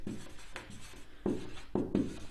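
Pen strokes scratching across paper while notes are written during a hormone lesson, with short rubbing bursts and several sharper taps as words are formed, close and alone.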